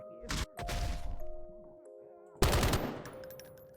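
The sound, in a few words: gunshot from a gun in a game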